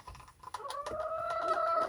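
A rooster in a coop on a frosty winter day, giving a few close, soft clucks followed by a drawn-out, throaty call.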